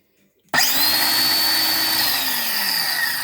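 A LUX TOOLS A-KS-20/150 cordless jigsaw under repair starts abruptly after a moment of quiet and runs loud and steady with a high motor whine for the rest, close by and unloaded.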